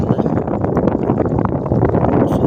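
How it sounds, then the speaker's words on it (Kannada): Wind blowing off the sea on a calm evening coast in Mangalore, heard as a loud, gusting buffet of wind noise across the microphone with fluttering bursts and no talking. "ಸೂರ್ಯಾಸ್ತಮಾಗುವ ಸ್ಥಳದಿಂದ ಗಾಳಿ ಈ ಕಡೆಗೆ ಬರ್ತಾ ಇದೆ."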